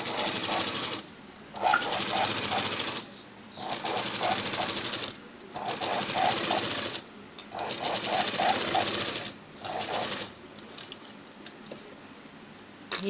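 Sewing machine stitching around a pot-neck blouse neckline, running in several bursts of steady rapid whirring separated by short pauses as the cloth is turned, close and clear with no talk.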